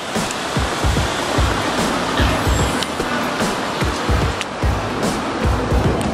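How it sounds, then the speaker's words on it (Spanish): Ocean surf rolls in along the Puerto Vallarta seafront promenade, a steady broadband wash with repeated low thumps of breaking waves, mixed with passing road traffic and no talk. "Ahí está el mar."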